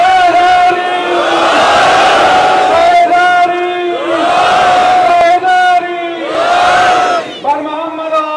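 A large religious gathering at Nishtar Park chants slogans in unison, with loud repeated calls and drawn-out crowd responses rising and falling in waves, several chant cycles close and powerful.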